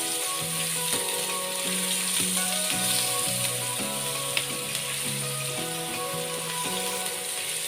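A small, finely chopped onion sizzles in hot oil with asafoetida for a spicy dry potato dish, a steady close frying hiss throughout with faint tonal hums underneath and no talking.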